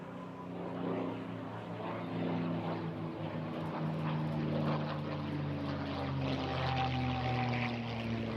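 Propeller aircraft of the Rolls-Royce Heritage Flight passing at an airshow, a steady droning engine hum with a rising and swelling roar, moderately distant and continuous.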